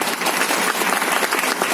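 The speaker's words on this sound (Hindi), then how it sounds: "एक बार जोरदार तालियां" A crowd at a closing speech event claps loudly and steadily, dense applause with no break.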